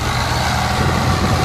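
A tractor engine revs steadily at about 2000 RPM, driving a rotary tiller rotavator in a Sonalika DI 60 versus Ford 3630 contest. The drone is loud and close, a constant heavy rumble with no voices.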